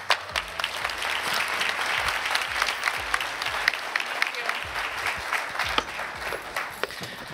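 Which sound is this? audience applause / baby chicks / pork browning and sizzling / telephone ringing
audience applause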